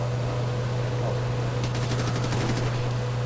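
Rapid automatic gunfire from the shooter game Ghost Recon Future Soldier, a brief burst of quick shots in the background over a steady electrical hum.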